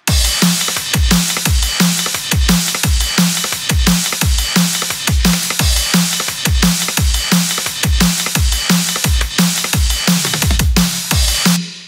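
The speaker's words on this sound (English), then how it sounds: "So this is all the drum sounds from the 40x40 pack. They're basically all acoustic drum sounds." Acoustic drum samples from a sample pack, played as a steady, loud groove of kicks, snares and cymbals with no pauses and no voices.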